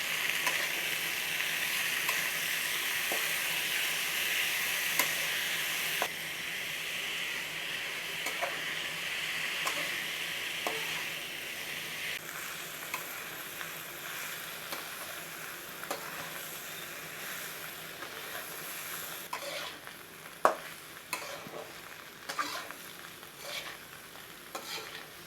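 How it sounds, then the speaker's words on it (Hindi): Chopped teasel gourd (spiny gourd) frying in a pan sizzles steadily and closely, with frequent scraping stirs and occasional metallic clinks of a spoon against the pan. No one speaks. "तो फ्रेंड्स मैं 10 मिनट भाजी को फ्राई कर लिया"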